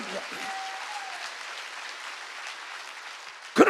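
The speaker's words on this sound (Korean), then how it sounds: "박수." A church congregation at an evening spring mountain revival meeting applauds in a steady, dense wash of clapping that holds for several seconds, with a brief voice near the end.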